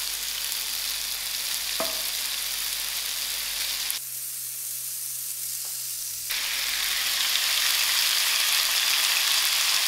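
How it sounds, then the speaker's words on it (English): Prawns fry in butter in a pan with a steady close sizzle and crackle, briefly dropping to a quieter low hum midway before the full sizzle resumes; no talking. "I'm putting in my prawns. I'm just going to allow it to fry for about 2 minutes."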